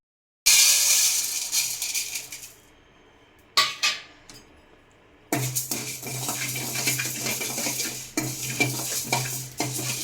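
Whole coriander seeds, dried red chillies, fennel, cloves, cumin, pepper and curry leaves dry roasting in a pan without oil over a slow flame, with a scraping stir, a brief pause, then steady rustling and clinking of the pan.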